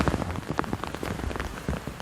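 Steady rain pours down on a mountainside, a dense, continuous patter of drops hitting the ground and foliage close by, with no voices.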